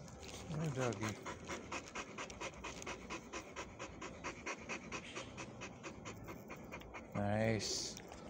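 A shelter dog pants close up in quick, steady rhythmic breaths, and a person speaks briefly near the start and again at the end.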